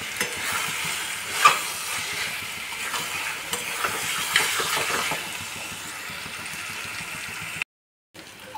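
Rice and potato fry in a pan over raised heat, giving a steady, close sizzle with soft stirring scrapes that runs unbroken before a brief silence near the end.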